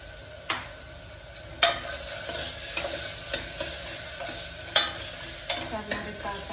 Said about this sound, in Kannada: ಟರ್ಮರಿಕ್ ಹಾಕಾಯಿತು, ಫ್ರೈ ಆಗ್ತಾ ಇದೆ